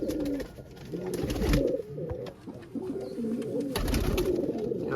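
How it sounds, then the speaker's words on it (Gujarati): Domestic pigeons coo in a loft, repeated low throaty burbling calls overlapping close by, with a brief louder rustle midway. "અંદર આવી ગયો ભાઈ પાછો કબૂતરના લોફ્ટમાં"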